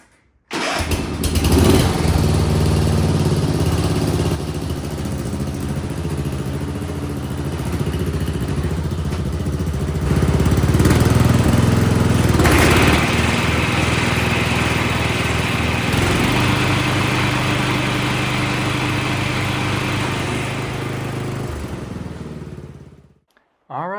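A riding lawn mower starts up and runs with its blade engaged, a loud, close, steady engine drone whose pitch and load shift slightly across twenty-odd seconds before cutting off at the end.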